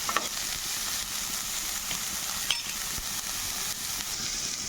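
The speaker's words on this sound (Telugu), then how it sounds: "ఉల్లిపాయలు మగ్గిపోతున్నాయి కదా" Onions fry for onion chutney, a steady close sizzle with a few light stirring taps and scrapes, even and unbroken, no one talking.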